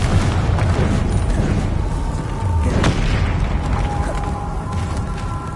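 A Bombarda explosion spell in Hogwarts Legacy, a heavy low booming blast with a sharp burst in the middle, surrounded by rumbling magical combat noise, no talk.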